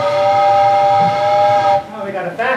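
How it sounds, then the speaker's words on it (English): A town factory whistle that serves a blanket mill sounds one long, steady, loud tone, then cuts off. Brief voices and movement follow. "You hear the whistle? Makes blankets."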